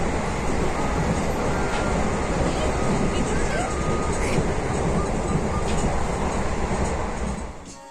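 A passenger train rumbles and clatters along the rails in a constant, loud drone heard from inside the carriage, with faint murmuring voices underneath, before it eases off slightly at the very end.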